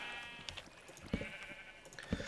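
Sheep bleating in a farming video game, several short bleats scattered over a steady background of game music, fairly close and clear with no talk.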